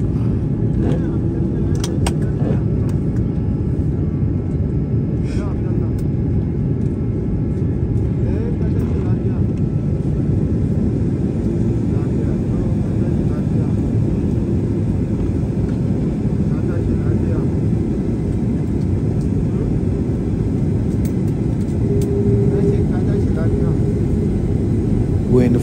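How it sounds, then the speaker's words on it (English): A steady, loud low roar of engine and airflow fills the cabin of a Max Air airliner on the ground before taxiing, continuous and unchanging throughout. "the pilot is about to start taxiing"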